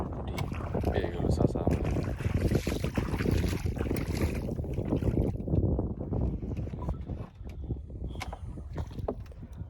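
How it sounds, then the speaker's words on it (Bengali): Strong wind blowing across an open wetland while out on a boat, a loud continuous rush and buffeting of the microphone, with some voices partly under it. "বিলে খুব বাতাস হচ্ছে একটু আগে বাতাস কম ছিল এখন খুব বেশি একটু বাতাস বইছে"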